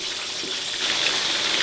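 Boiling water poured over raw chicken before washing, a steady continuous splashing gush that runs for under two seconds, close and fairly loud, with no talking.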